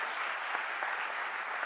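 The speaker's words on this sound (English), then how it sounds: "give him a huge round of applause anyway" An audience at the Philadelphia mayor's budget address applauds in a dense, even wash of clapping, heard from a distance and fairly quiet throughout.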